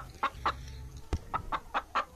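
Chicken clucking in the Guild Wars 2 video game, a quick series of about seven sharp, close clucks in an uneven rhythm over low background noise.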